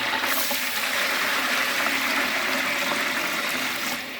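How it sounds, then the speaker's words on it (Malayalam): Water pours steadily into a pot of frying mutton biryani base, a continuous rushing splash that holds for a few seconds before tapering slightly at the end. "ഇനി നമുക്ക് വെള്ളം ഒഴിച്ച് കൊടുക്കാം നാല് ഡബ്ബ"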